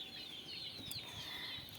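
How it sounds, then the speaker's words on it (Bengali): A native rooster clucks softly in a farmyard setting, a faint, steady call under continuous background noise with no talking. "এই যে আমার মোরগটা আলহামদুলিল্লাহ খুব ভালো একটা মোরগ আমার।"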